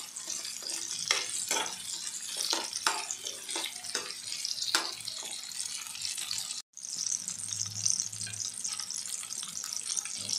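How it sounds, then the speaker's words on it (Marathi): Onions sauté in a pan for tomato rice, making a steady, close hissing sizzle broken by sharp scraping taps of stirring. "कांदा परतून झालेला आहे"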